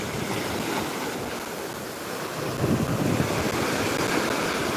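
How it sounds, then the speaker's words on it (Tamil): Ocean waves break and wash up a local beach, a continuous loud roar of surf with wind buffeting the microphone and a surge swelling near the end. "அது மேலேருந்து அலைகள் வந்து மெதுவாக தான் வருது"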